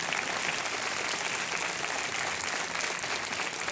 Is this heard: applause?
yes